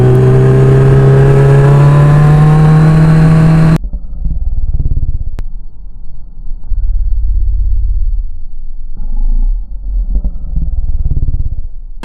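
Kawasaki H2 Carbon motorcycle engine revving loudly up close for several seconds with rising pitch, then cutting off to a low idle rumble with occasional surges.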